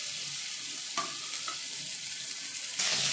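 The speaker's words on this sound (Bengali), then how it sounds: "এর মধ্যে দিয়ে দিচ্ছি কুচানো পেঁয়াজ, আর দিচ্ছি 2টো চেরা কাঁচা লঙ্কা।" Chopped onion and two slit green chilies sizzle in oil with whole cloves, cinnamon and cumin seeds, a continuous close hiss broken by scraping stirs and a louder burst of frying near the end.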